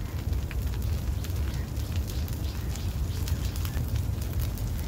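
Hot oil sizzles steadily on a rice-flour ghavne in a pan, a continuous close crackling hiss with no talk.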